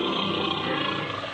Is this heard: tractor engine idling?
no